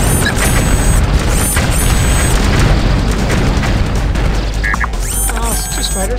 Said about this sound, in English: Vehicle destroyed.